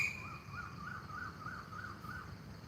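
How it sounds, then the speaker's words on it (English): Faint bird calls repeating in a regular, rising-and-falling pattern over soft background noise in Phala, Thailand, with no one speaking. "Love being drowned out by these beautiful birds."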